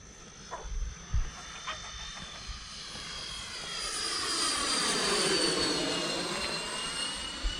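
A Freewing F-14 Tomcat RC jet with 80mm electric ducted fans flies a pass, its rising whine swelling as it closes in and sweeping down in pitch as it goes by, with faint low rumble beneath.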